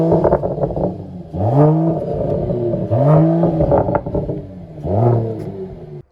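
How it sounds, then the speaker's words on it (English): A Mercedes E53 in Sports Plus mode revs hard three times, each sharp climb in pitch falling away before the next, loud and close with a continuous engine rumble between the bursts. "So now let's hear this car in Sports Plus."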